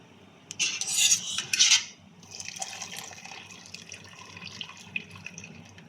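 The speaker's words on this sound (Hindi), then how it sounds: "पानी अच्छी तरह से निथार लीजिए।" Water runs and splashes as rinsed rice is drained for a home-style chicken biryani, a bright trickling burst near the start that gives way to quieter dripping and faint rubbing sounds, close and without talk.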